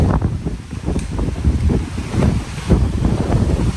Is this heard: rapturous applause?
no